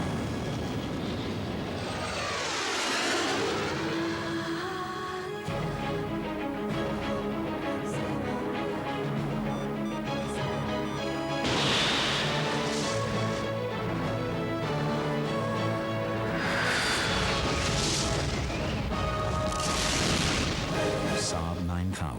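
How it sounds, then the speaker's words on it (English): An emission-seeking missile flying and exploding in a 1990s Saab 9000 Turbo TV advert: a long roaring rush of engine and air noise with bursts and blasts building over about twenty seconds, mixed with music. "And this is an emission-seeking missile."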